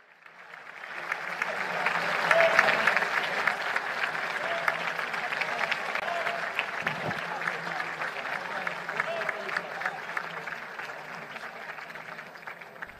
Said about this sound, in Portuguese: todos de pé, parabenizando, aplaudindo aí